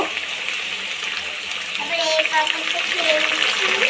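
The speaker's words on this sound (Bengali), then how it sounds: "এবার আমি নুন জল দিয়ে দেব" Salted water splashed into a pan of frying potato chips, a steady loud hiss and sizzle with watery spatter that swells partway through and carries on to the end.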